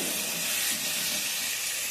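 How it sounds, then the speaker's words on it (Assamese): Water is poured into a pan of frying mushrooms and erupts into a loud, continuous hiss of steam that holds steady for a couple of seconds. "মাছৰুমখিনি ভালদৰে ভাজি হোৱাৰ পিছত ইয়াতে এতিয়া পানী দিম"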